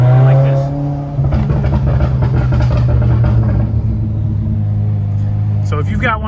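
A Subaru with a very loud exhaust revs hard, a deep booming drone rising and holding with rough crackles and bangs, close and dominant with speech mixed in.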